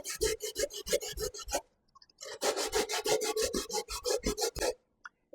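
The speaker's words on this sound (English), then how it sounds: "So now I'm going to grate the potatoes." Sweet potatoes are rubbed hard against a hand grater, sounding like rapid rasping strokes in two quick bursts with a short pause between them, close and crisp with no voices.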